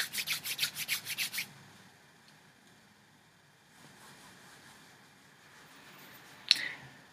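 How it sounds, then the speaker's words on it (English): Palms rubbing together during a devotional chant gathering, heard as a quick run of about eight rhythmic, close swishing strokes, followed by a hushed stretch and a single sharp brush near the end. "Rub your palms together and receive the blessings."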